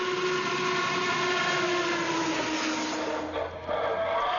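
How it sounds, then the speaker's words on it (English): Model steam locomotive sound system giving a steady, loud chuffing rumble with hissing steam and a sustained whistle-like tone, continuous and close throughout. "a real iron horse belching smoke and hissing steam as they chuff over the rails"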